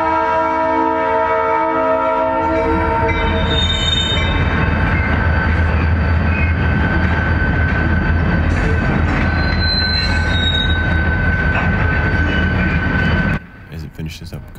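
A Keokuk Junction Railway GP20 diesel locomotive rolls loudly past at close range, its engine rumbling steadily with wheel squeal and horn-like tones over the passing cars, before the sound cuts off abruptly near the end.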